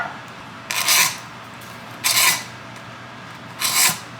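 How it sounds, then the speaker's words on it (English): A metal speed square scrapes across a block of clear ice in three separate rasping strokes, each roughly half a second long, close and fairly loud, with quiet pauses between them. "Literally scraping bits of my speed square off in the process of doing this."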